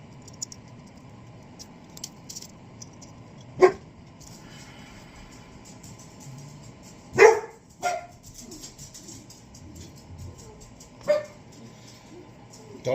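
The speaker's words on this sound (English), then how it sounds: "Doggy's always got to bark." A dog barks a few times in the distance, spaced single barks over a steady kitchen background hum while someone works on sourdough loaves.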